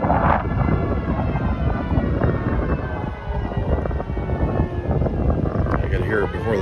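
A tornado warning siren in Ulysses, Kansas, wails as a steady, far-off tone under heavy wind rumble and gusting microphone noise for the whole stretch.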